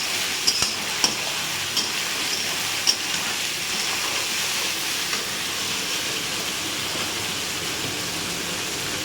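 Cumin paste masala sautéing in a pan gives a steady, close hiss of sizzling throughout, with a few faint clinks of a spoon early on.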